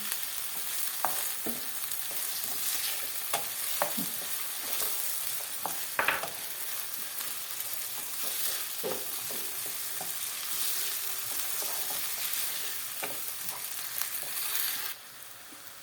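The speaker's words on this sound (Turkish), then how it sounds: "içine biraz da tereyağı bir yemek kaşığı kadar bunu da güzelce bir kavuralım" Butter and potatoes fry in a pan for Turkish shepherd's pilaf (çoban pilavı) and get stirred. A steady close sizzle runs throughout, with occasional scraping stir strokes and no voices.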